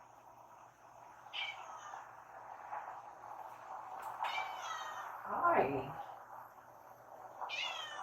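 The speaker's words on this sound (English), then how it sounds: "That is my cat. I don't know if you can hear that." A cat meows several times, each a rising, drawn-out cry, with a person talking briefly in a quiet room.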